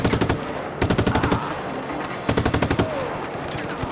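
Rapid automatic gunfire bursts in the video game Just Cause 3, several rattling strings of shots with brief pauses, loud and close over a dense background of game noise.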